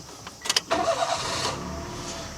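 A car in Japan started without a key by turning a magnetic knob, giving a few clicks followed by a brief crank and the engine catching into a steady idle, close and alone.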